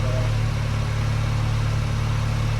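A Honda Beat's small engine idles steadily while warming up for a service, a close, even mechanical hum with a constant low drone and no talk over it.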